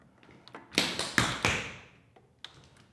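Tap shoes strike a hard floor in a double pickup, four crisp taps in a quick cluster, followed by a couple of lighter scattered taps, close and alone with no talk.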